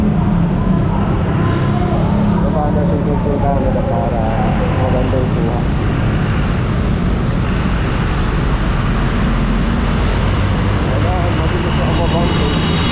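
Heavy rush-hour traffic crawls along EDSA near Ortigas, with a continuous low rumble of engines and road noise all around and a person talking over it throughout.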